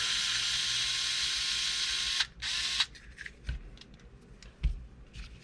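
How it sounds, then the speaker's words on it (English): Bolts being pulled out of a tank. A steady high tool whine runs for about two seconds, then a brief second burst, followed by scattered light clicks and knocks of parts being handled nearby. "I'm going to pull these 3 bolts out"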